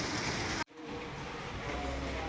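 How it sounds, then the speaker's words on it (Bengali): Faint, steady hiss of rain falling outdoors, with a brief sharp cut partway through before the soft patter resumes and continues evenly. "বৃষ্টি পড়ছে, দেখো দেখো দেখো দেখো বৃষ্টি দেখো।"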